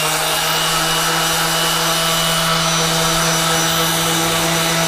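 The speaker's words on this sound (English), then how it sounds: "So I'm going to continue sanding." Steady, loud whirring of a power sander grinding against a wheel, with a constant motor hum throughout and no voices.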